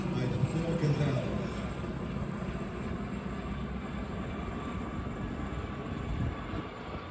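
Navy Wings flypast at an air show, a Stinson Reliant alongside a Harvard with its rasping engine, heard as a continuous broad engine drone while an announcer talks over it.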